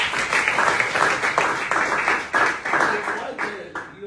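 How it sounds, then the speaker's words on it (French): An audience applauding during a Yom Kippur gathering, a dense burst of many hands clapping in uneven rhythm, loud and near, fading out at the end. "Quelqu'un peut acclamer."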